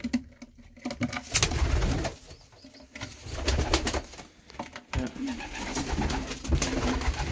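Racing pigeons in a loft at banding time, with newly hatched chicks nearby, repeated soft cooing close up in rhythmic bursts, with some handling noise and light background talk.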